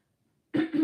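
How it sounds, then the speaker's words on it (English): A single short cough, close and fairly loud, breaks abruptly out of silence in two quick bursts. "I didn't mean to cough in your ear"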